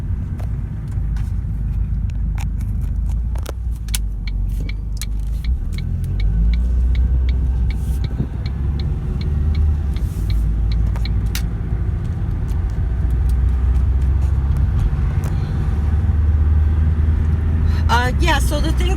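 Car interior on the move, with steady low engine and road rumble throughout and people talking over it.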